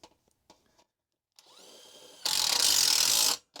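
A power drill drives screws to fix a forced-air zone damper in place, with a short low whir and then a loud, close burst of high whining rotation about a second long, after a few faint clicks.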